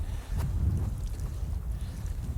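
Strong wind buffets across a reservoir in a steady low rumbling roar that dominates the mic, with no talk heard.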